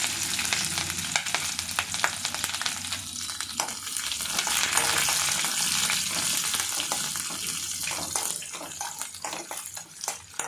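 Green chillies and onion sizzle in hot tempering oil in a pan, a loud, close crackling fry with scraping stirs and spatters throughout, no one speaking.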